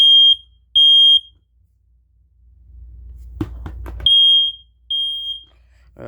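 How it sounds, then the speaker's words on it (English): A smoke alarm blares in loud, high piercing bursts, two short blasts, then a pause with muffled handling noise and a thump, then two more shrill bursts near the mic. "Real loud alarm before I push the hush button."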